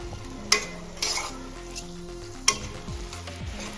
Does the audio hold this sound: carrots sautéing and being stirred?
yes